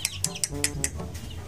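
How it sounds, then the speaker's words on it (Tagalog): Three-week-old chicks give about five short, high peeping chirps at a steady pace. Each chirp is clear and close, over a low, continuous background hum. "3 weeks old sa pag-aalaga at papapalaki ng mga sisiw."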